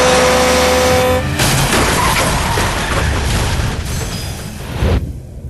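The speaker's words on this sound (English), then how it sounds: "Her car is struck from the side" A car pulling out of an intersection is struck from the side by a 40-ton log truck: a loud, sustained roar of engine and crunching impact noise fills the scene, ending in a sharp burst before quieting.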